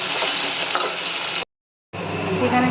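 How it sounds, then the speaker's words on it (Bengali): Chopped onions sizzle and crackle steadily in hot oil in a pan, a dense, continuous frying hiss that cuts out briefly for about half a second, then resumes just as strongly. "পেঁয়াজটা খুব সুন্দর করে বাদামি কালার করে লাল করতে হবে"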